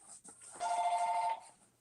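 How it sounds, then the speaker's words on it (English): A telephone rings once in a short, steady electronic trill lasting about two-thirds of a second, fairly loud and close, with quiet room tone before and after and no talking. "Oh, there's my phone."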